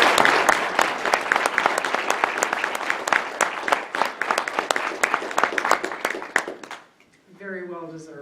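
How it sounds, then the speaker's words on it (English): An audience at a driver of the year award ceremony gives a dense, lively round of applause with many distinct claps for about seven seconds, then it drops out and a voice begins talking. "How about a round of applause?"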